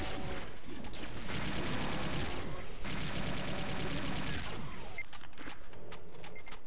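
Rapid chaingun fire from a chaingunner enemy in the Doom game, dense continuous bursts across most of the stretch with a brief break, mixed with other game effects.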